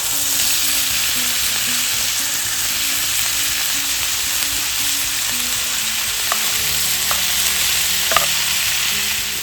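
Pork, mushrooms and vegetables stir-fry in a hot pan, a loud, steady sizzle with a few sharp clicks of stirring toward the end.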